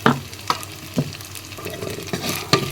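Oil sizzles and spices are stirred for ginger curry, with sharp scraping stirs at regular intervals over a steady close frying hiss, no talk.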